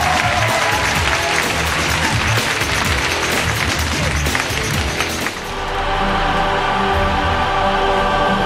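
Loud, dense audience applause at an esports FIFA Online 3 championship final, sustained for several seconds before tapering off abruptly into quieter hall ambience.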